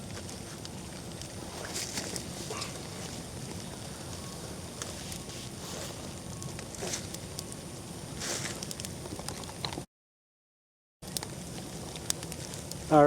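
A campfire of split hardwood burns steadily in the rain, with continuous crackling, hissing and sizzling close by under light patter, briefly cutting out near the end.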